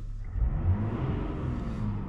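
A 2023 3.0-litre Duramax diesel engine revs once, a low rumbling swell that rises and settles back to a steady idle, fairly close with no talk over it.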